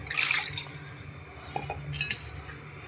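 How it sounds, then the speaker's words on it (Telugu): Water is poured into a kadai sitting on a stove, making a short splashing gush followed by clinks and drips of the metal pan, close and moderately loud. "కొద్దిగా నీళ్ళు వేసేసుకోవాలండి"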